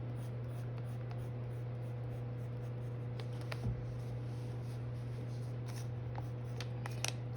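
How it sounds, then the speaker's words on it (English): Woodless colour-changing aquarelle pencil scratching steadily across paper while filling in colour on a realistic eye drawing, soft continuous scribbling strokes over a low steady hum. "I'm just adding this color in, and it is a color changing pencil."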